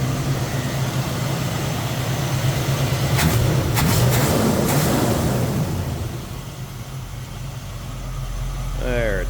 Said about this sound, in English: Nice smooth running V8, no doubt about that.